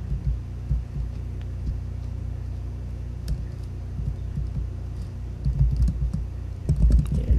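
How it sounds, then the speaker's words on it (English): Fingers typing quickly on a computer keyboard, with irregular bursts of soft clicks over a low background hum that grow denser and a little louder toward the end. "Okay, so I'm just gonna type in some real quick."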